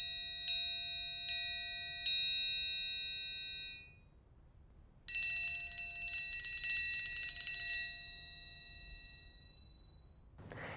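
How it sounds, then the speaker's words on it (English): Metal triangle struck with a triangle beater: three separate ringing strokes that decay, a pause, then a shimmering sustained roll that fades, all alone with no talk. "We use a special triangle beater for this instrument, and we can use a single stroke or a roll."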